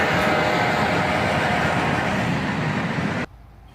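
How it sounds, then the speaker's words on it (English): A Norfolk Southern SD70ACe and ES44DC pair lead a freight train past, a loud, steady broadband rumble and roar that holds evenly close by, then cuts off abruptly near the end. "a pair of NS locomotives lead this train, an SD70 Ace and an ES44DC"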